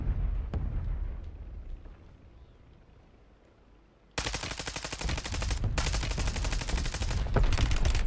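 Gunfire in a video game on Rebirth Island: a single early shot, a quieter lull, then a loud sustained rattle of rapid automatic fire close by for the last half.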